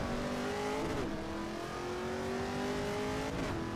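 Alfa Romeo Giulia in Assetto Corsa Evo, the engine droning steadily under load with pitch dips at gear shifts and a brief tire squeal, continuous and up close.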